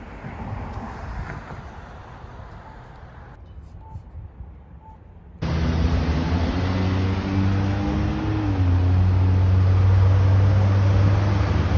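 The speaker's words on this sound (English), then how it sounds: "Cars are driving by" Cars driving by on a city street during urban fishing: a steady traffic rumble that jumps to a louder, closer engine drone partway through, with wind noise and a rising hum as a vehicle passes.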